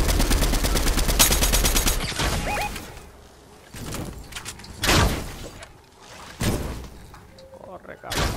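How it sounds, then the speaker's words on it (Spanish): Bursts of gunfire in the video game Fortnite, loud and dense at the start then recurring in shorter volleys, mixed with game effects and excited players talking over it. "Le di un par de tiros."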